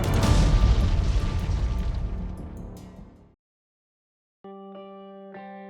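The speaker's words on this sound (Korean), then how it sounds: "이와 동시에 장치는 힘을 주체하지 못하고 폭발해버립니다." A device blowing up in a Spider-Man and Silk story: a loud, booming blast that rumbles and slowly fades over about three seconds, then a brief silence before a sustained tonal musical drone.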